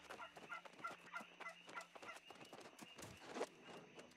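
A turkey gobbles repeatedly in the New World video game, a rapid rattling series of calls over a steady game ambience, loud and close, with a stronger burst near the end.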